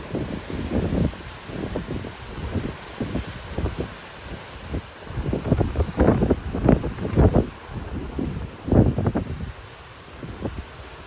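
A strong gust of about 40 mph roars through trees in Plano, Texas, with surging, buffeting wind noise and rustling leaves rising and falling in loud waves.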